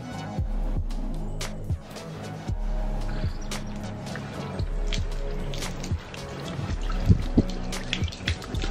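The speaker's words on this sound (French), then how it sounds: "je suis content que ça a coulé uniquement par où ça devait couler" Water runs and gurgles down through a newly repaired kitchen sink siphon, a steady close trickle with intermittent splashes and knocks, with no voices.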